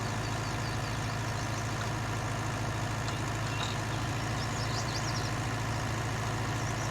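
A County 754 tractor engine runs steadily while pulling a Massey Ferguson plough, a continuous low diesel drone with a constant rumble throughout, fairly close and with no voices.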